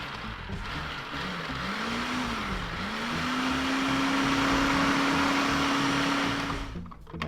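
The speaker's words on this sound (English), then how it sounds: "I'm going to just pulse this all together." A food processor whirs steadily as it pulses jalapeno, spinach and basil pesto ingredients, its motor pitch dipping briefly before holding a loud, even drone, then cutting off near the end.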